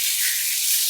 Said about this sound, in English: Give her a little bit of water. Be careful. Get your lid ready. And we're just going to pour the water in.